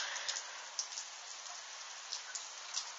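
A brief, moderate shower of soft hail falls steadily in Tour-en-Sologne in December, a dense even patter with a few sharper ticks, heard outdoors with no voices.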